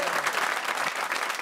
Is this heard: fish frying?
no